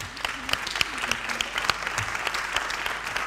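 Applause from an audience at a regional roundtable event, steady dense clapping from many hands at moderate distance, continuing evenly throughout.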